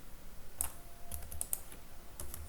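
Code being typed on a computer keyboard: faint, light key clicks come in small irregular clusters over a quiet background hum.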